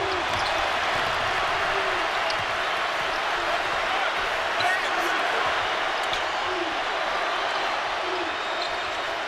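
A packed basketball arena of about 70,000 fans roars as the crowd rises to its feet at the 2010 national championship game, a dense, sustained wall of cheering with a commentator talking over it.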